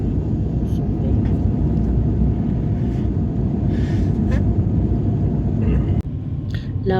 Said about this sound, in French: Là, on va atterrir à Addis Abeba.